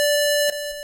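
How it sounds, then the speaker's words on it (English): Steady chiptune pulse-wave tone from the first channel of a tracker synth, a sustained bright buzzy note with strong harmonics held alone for under a second, with a brief soft bump midway. "the first 2 channels are always going to be those pulse wave"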